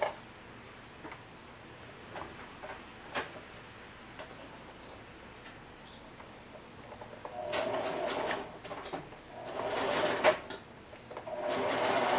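A home sewing machine stitching fabric at full speed while crafting paper templates, first a faint steady ticking with scattered clicks, then a louder dense whirring run in the last few seconds.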